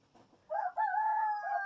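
A rooster crows nearby, giving one clear, drawn-out cock-a-doodle-doo after some faint rustling at the start.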